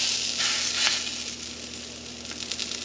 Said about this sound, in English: the eggs are probably going to cook